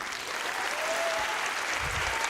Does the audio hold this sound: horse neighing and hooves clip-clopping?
no